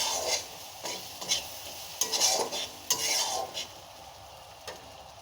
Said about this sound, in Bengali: রসুনটা দিয়ে সুন্দর করে ভেজে নেব।